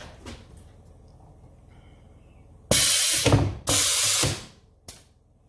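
Gang punch machine driven through material, two loud bursts of about a second each after a quiet stretch, then a short sharp clack, close and without talk.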